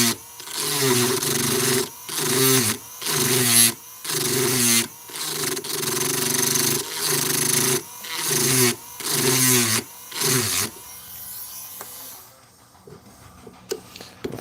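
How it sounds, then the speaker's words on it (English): A Dremel rotary tool grinds a burr off a part in repeated bursts of about a second each, a loud whining buzz separated by brief pauses, before ending in quiet. "I'm thinking of just using the Dremel. Just going to get rid of this little burr on this part."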